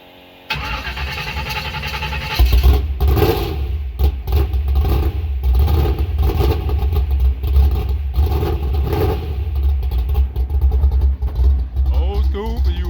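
An old Chevrolet OBS pickup truck engine drones loudly and steadily on a hill, rising and surging as it is given gas, with voices talking over the running engine throughout.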